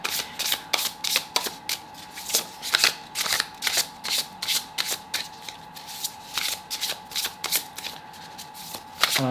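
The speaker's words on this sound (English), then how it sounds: "Let's get your shuffle going." A deck of tarot cards being shuffled by hand, with repeated crisp riffling bursts in a steady rhythm, close and clear, with a faint constant hum from an air conditioner behind.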